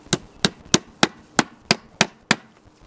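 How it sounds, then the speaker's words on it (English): Eight sharp hammer strikes drive nails into a wooden box, evenly spaced at roughly a third of a second apart, loud and close with no talking. "So we just hammer those in."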